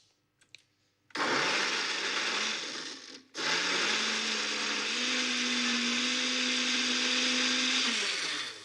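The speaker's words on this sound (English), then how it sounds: "And we're just going to blend that." A kitchen blender whirs loudly as it blends fresh horseradish, a brief start, a short pause, then a long steady run that holds a constant motor drone before cutting off.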